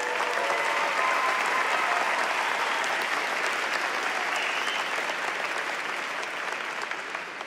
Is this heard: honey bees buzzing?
no